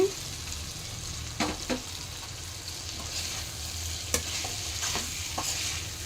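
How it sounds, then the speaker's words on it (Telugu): Kavidi gadda, a yam, frying in hot oil gives a soft steady sizzle with a few sharp scraping stir strokes, the kind made by a spatula, heard close up and with no talking. "ఒక టూ మినిట్స్ ఫ్రై చేయండి నూనెలోనే"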